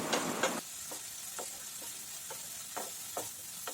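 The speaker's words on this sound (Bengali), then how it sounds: "মশলাটা কষিয়ে নিতে হবে" Spice masala with slit green chillies for a vegetarian Bengali khichdi fries in a pan, a quiet steady sizzle broken by a series of soft, regular stirring scrapes.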